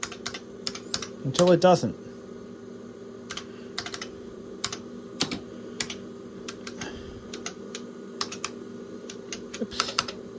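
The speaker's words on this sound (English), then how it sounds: "Yeah, the keyboard works fine" Keys clack in quick, uneven bursts on an IBM computer keyboard used with an IBM 5153 Color Monitor, close and crisp, with a short voice heard partway through.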